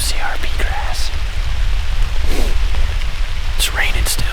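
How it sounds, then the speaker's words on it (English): Steady outdoor rain falling over a big valley during a Kentucky deer hunt, a constant broadband hiss throughout, with a few brief faint bird or voice sounds breaking through. "It's raining still."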